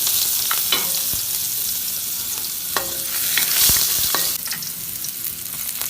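Garlic and onion sauté in hot oil in a wok-style pan while preparing mung bean sprouts, a steady loud sizzle with sharp clinks and scrapes of a utensil stirring at intervals, no talking.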